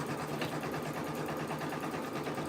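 An embroidery machine stitching on a tee, producing a steady, fast mechanical whirr with an even rapid needle rhythm running throughout at close range.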